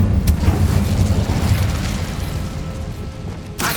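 The Incendio fire spell cast in Hogwarts Legacy, a low, rumbling whoosh and roar of flame that starts with a sharp burst and fades over a few seconds, with a second pop near the end.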